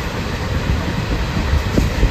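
A fairly empty passenger train travelling from Tarapith to Kolkata rumbles steadily from inside the carriage, a loud low roar with soft rattles and knocks throughout.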